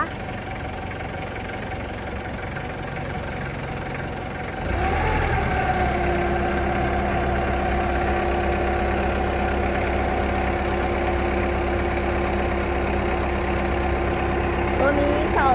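A four-cylinder diesel engine on a 3-ton TCM forklift runs steadily with a low, rumbling drone that jumps louder after a few seconds and stays constant.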